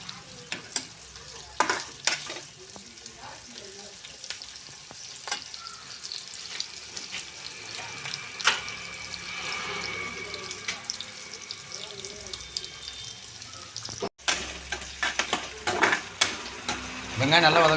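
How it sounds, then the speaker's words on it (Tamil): Small onions sizzle steadily in a hot pan of oil for a mutton curry, with a spatula scraping and stirring in close, irregular strokes throughout. "வெங்காயம் நல்லா வதங்கணுண்ணே."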